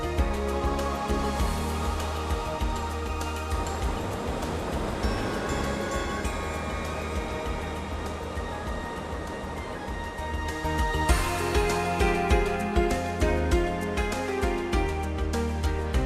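The upstream Marshangdi River in Manang, fed by side streams and waterfalls, rushes in a dense, continuous roar that swells louder toward the end, with no voices.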